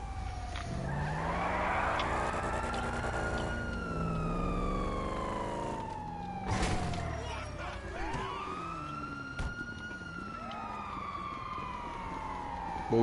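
A police siren wails in GTA 5 with loud, rising and falling sweeps that repeat across the scene, mixed with a car engine and tire skids close by.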